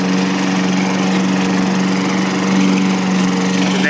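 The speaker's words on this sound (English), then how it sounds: "The neighbor's mowing" A neighbour's lawn mower runs steadily nearby, a constant droning engine hum with a low tonal buzz that holds unbroken and fairly loud throughout, with no talking.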